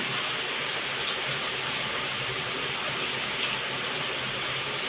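Heavy afternoon rain pours down in a steady, dense hiss of drops on surfaces, uniform throughout with no voices.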